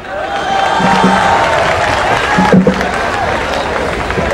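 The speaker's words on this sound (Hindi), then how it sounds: "इनके लिए जोरदार ताली बजाएं" A college hall audience claps loudly, a thick wash of many hands mixed with crowd cheering and babble, swelling briefly in the middle before settling again.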